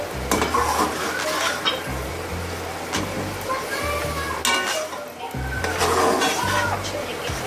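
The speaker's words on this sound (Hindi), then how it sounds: "अब आप अगेन इसके अंदर यही चिकन जो है डाल के आप इसको इस मसाले के अंदर भूनेंगे थोड़ा।" Chicken pieces fry and sizzle in a tomato masala for chicken tikka masala while a spoon stirs and scrapes the pan, a steady crackling hiss with repeated scraping strokes and a low background hum throughout.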